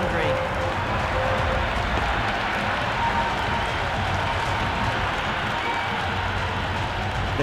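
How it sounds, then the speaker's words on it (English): Raucous stadium crowd at a cricket match in the video game Cricket 26, a dense, steady roar of cheering and noise that runs loud and unbroken throughout, with commentary voices beneath. "The crowd are really getting quite raucous"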